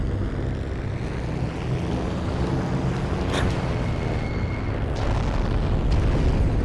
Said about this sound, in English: I need to stop wasting bombs